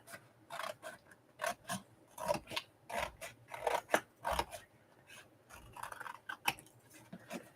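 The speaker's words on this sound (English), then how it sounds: "So we're just going to cut folds off, you know, all the flaps." Scissors snip through cardboard packaging, cutting the flaps off, in a run of sharp, close, irregular crunching cuts with short pauses between them and no talk.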